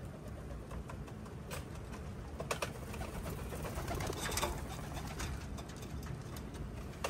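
Racing pigeons fly through rain during a Capistrano classic race, with soft bird sounds over a steady, broadband wash of rain noise and a few faint sharp clicks throughout.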